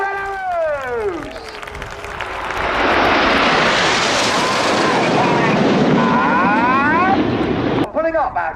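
A propeller aeroplane performing at an evening air show swells into a loud, sustained engine roar as it passes close, with an announcer's commentary before and after the pass.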